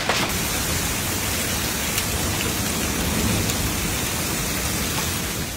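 Heavy rain pounds down steadily during a hail storm in Denver, Colorado, a dense, unbroken roar of falling water and ice at close range with no voices.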